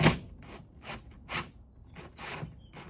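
A fastener on the clam of an S1 Elise is tightened by hand with a driver while a Cup R wing is fitted, giving a quiet run of irregular clicking, ratcheting ticks, close up with no talk.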